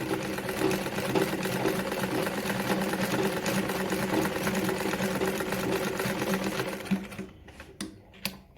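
A Victoria Deltmod 235 sewing machine runs a zigzag stitch in a steady, fast mechanical chatter that carries on for several seconds, then slows and stops with a few separate clicks.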